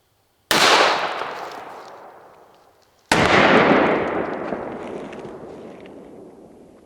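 Two loud .45 pistol shots fired at cheap body armor, about two and a half seconds apart, each a sharp blast trailing into a long echoing decay, with no talk.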